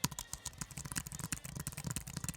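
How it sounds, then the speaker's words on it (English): Rapid, irregular clicking of plastic keys on a cheap iPad keyboard being typed, close and steady throughout with no voices. "it's not a super high-end mechanical keyboard, but it does sound pretty darn good"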